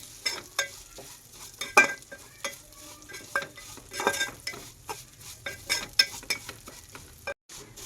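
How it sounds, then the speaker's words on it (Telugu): Vermicelli roasting in a pan over a low flame, a soft sizzle under repeated scraping stirs and clinks of a spoon against the metal, coming in irregular bursts at close range. "దీన్ని కలర్ రెడ్గా వచ్చేదాకా వేపుకోవాలి"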